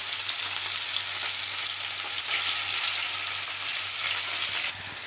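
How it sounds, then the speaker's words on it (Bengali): Paneer pieces fry in oil in a kadai with a dense, steady hiss of sizzling that holds throughout and eases slightly near the end. "এইবার কড়াই তেল বসিয়ে দিয়েছি পনিরগুলো ভেজে আমি তুলে দেব"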